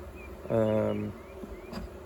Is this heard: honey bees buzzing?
yes